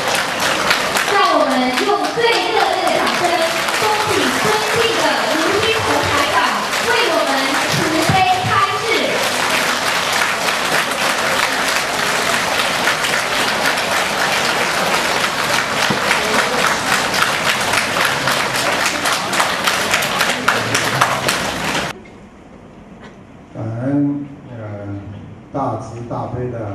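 A big crowd at a Buddhist friends' meeting in Bangkok, Thailand, claps loudly and continuously for a long stretch while an amplified voice speaks over the early part. The applause cuts off abruptly, leaving quieter speech.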